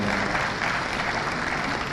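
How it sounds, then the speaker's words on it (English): Steady, dense applause fills a hall as an audience claps together at a South East venture capital program event in Enugu, even and sustained throughout with no break. "Please, one more time, can we give him a round of applause,"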